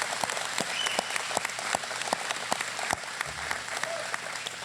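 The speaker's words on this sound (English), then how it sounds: "I'd like to give them a round of applause" An audience at a ribbon-cutting ceremony gives a round of applause, a steady patter of many hands clapping at moderate distance, with a brief voice underneath.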